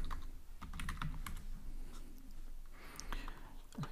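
Java code is typed on a computer keyboard, with close, quick bursts of key clicks and a few heavier keystrokes, while a voice speaks softly underneath.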